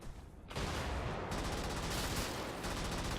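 Explosions and gunfire from the mech combat game Brigador erupt suddenly after a brief lull and become a loud, dense barrage of rapid shots and blasts that continues without a break.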